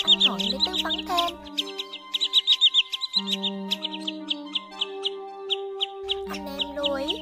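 Common greenshank calls played as a trapping lure: rapid series of sharp, high whistled notes repeating steadily throughout, with a low sustained hum rising and dropping away underneath.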